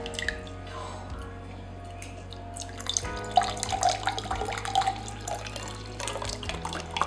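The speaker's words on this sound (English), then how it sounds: "So you want to pour it into there." Vinegar poured into a glass makes a soft trickling, gurgling stream with small drips and splashes, close and fairly quiet, with no talking.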